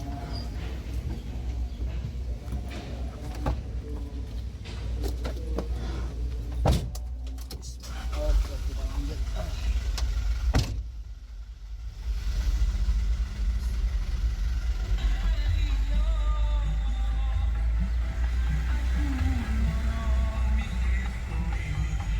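Cab of a dump truck while riding along, a low steady engine rumble with occasional rattles and knocks, and a person talking over it.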